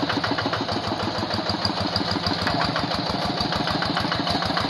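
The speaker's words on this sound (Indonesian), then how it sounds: "Mesin traktor Quick dengan produksinya dari Kubota seperti ini suaranya, ciri khasnya ya, suara seperti ini." A Quick hand tractor with a Kubota engine runs beside a rice paddy, chugging in a fast, even, loud putter with rapid regular firing pulses, continuous and close, no voices over it.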